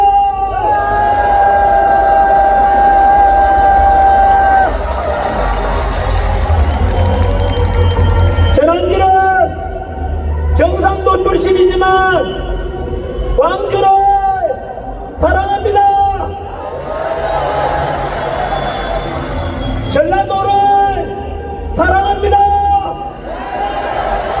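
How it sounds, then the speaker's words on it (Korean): A large outdoor political rally crowd in Gwangju roars and applauds at length, loud and dense cheering with whoops rising in repeated swells and a steady clapping wash underneath. "큰 함성과 함께 박수를 부탁드립니다"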